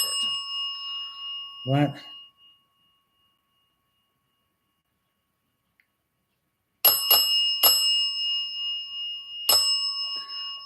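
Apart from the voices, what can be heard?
bell ringing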